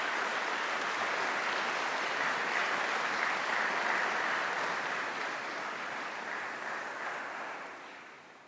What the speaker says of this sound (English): could you just join me in a show of appreciation, a clap of your hands for the academic staff and others in the university?